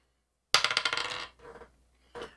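Dice tumbling during a tabletop roleplaying game session, a sharp clattering burst of rapid bouncing hits that fades, followed by a softer second rattle and one brief final clack, close and clear with no voices.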